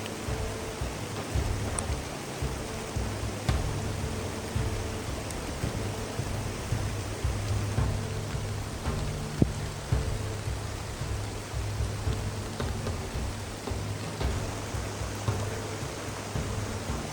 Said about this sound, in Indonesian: diiringi oleh suasana hutan yang sedang hujan dan dingin